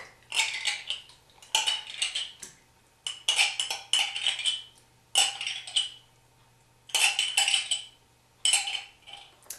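A metal utensil clinks and scrapes against a container while stirring yogurt starter into warm milk, in irregular bursts, close and crisp, with quiet pauses between, no talking.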